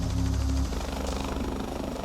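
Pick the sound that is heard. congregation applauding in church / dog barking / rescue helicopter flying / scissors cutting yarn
rescue helicopter flying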